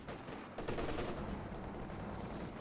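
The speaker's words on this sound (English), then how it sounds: "Going in here with a lot of light machine guns." Dense, continuous light machine gun fire in Company of Heroes 2, a WWII strategy battle, sustained rattling bursts layered with distant combat noise, steady and moderately loud with no talk.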